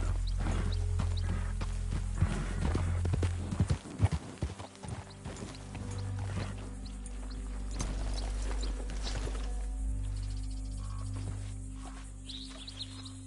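Video game horse hooves clip-clop steadily on a hard surface, close by, with a horse snorting and faint birdsong in the background.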